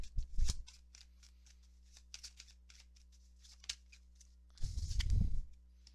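Tarot cards being shuffled and drawn, a quick riffle burst at the start and a longer one near the end, with light flicks and slides of single cards in between, close and fairly quiet.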